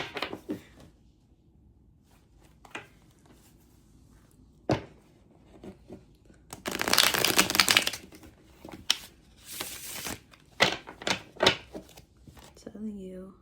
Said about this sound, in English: I have not shuffled on my table in a while, so don't mind my shuffling.